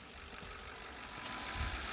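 Ford 6.0 Powerstroke diesel engine running on a test stand, a steady close idle rumble that grows slightly louder toward the end, with no voices.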